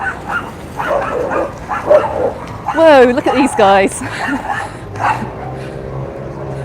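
Small dogs yap and whine in short excited bursts on an evening street walk at a beach resort, close by, while people talk over and around the barking.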